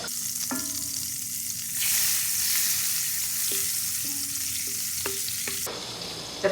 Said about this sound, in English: we're going to melt another tablespoon or two in the same pan of butter, or vegan butter